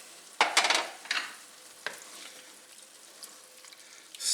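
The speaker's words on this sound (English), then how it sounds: "Stir that in." A spoon stirs canned sliced black olives with their liquid into a tortilla casserole mixture made with Beyond Beef, giving a few wet scraping clacks early on, then a quieter soft rustle.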